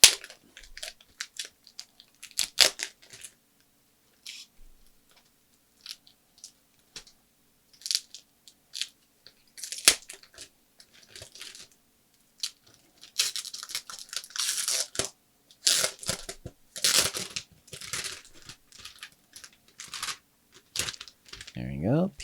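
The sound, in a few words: peeling protective plastic film off a drawing tablet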